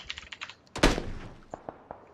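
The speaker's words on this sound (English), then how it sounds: "Yeah, gunfire." Gunfire in the video game PUBG: one sharp, fairly loud shot stands out among soft tapping clicks, followed by a few fainter, distant-sounding reports spaced apart.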